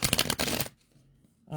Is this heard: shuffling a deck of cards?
yes